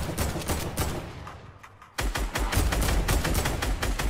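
Rapid automatic gunfire in the video game Fortnite, a dense stream of loud, close shots that pauses briefly before resuming even heavier, like a drum gun hammering away continuously.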